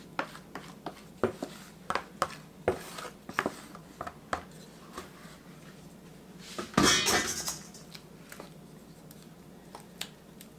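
Squash is spooned into a greased 9x13 baking dish, with a series of distinct utensil clinks and taps against the dish, a louder scraping burst midway, then more scattered clinks, close and fairly quiet.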